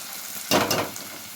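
Onion, curry leaves and dried red chili hit hot oil with a sudden loud sizzle that swells briefly and fades to a softer crackle, close and alone.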